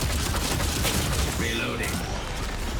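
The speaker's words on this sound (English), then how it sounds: "Plus the gun makes a cool sound." The player's gun firing in the mech video game Steel Hunters, a rapid fusillade of heavy shots with mechanical clatter, steady and fairly loud, while a voice talks alongside.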